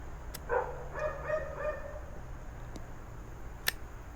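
Dogs bark faintly in the distance, a short cluster of a few yaps early on, then quiet background hiss broken by a couple of sharp clicks.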